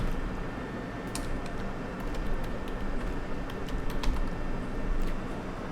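Rapid clicks of a computer keyboard as a search keyword is typed, an uneven burst of close keystrokes over a low steady room hum.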